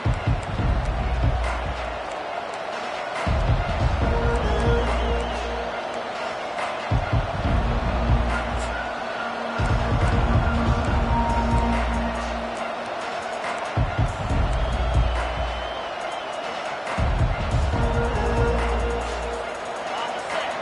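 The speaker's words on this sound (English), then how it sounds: "This crowd trying to make life miserable for this offense." A football stadium crowd roars steadily in the distance as an offense takes the field, with a broadcast commentator talking over the noise in regular bursts.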